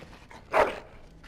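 A single short dog whine or yelp in the video game Dragon Age Origins, brief and fairly close, rising out of a quiet background with no talk over it.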